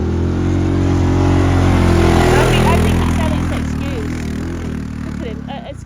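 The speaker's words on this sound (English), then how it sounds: "We need some new tyres for this quad bike." A quad bike engine running steadily at close range, a strong low rumble that swells slightly and then eases off, with voices talking over it.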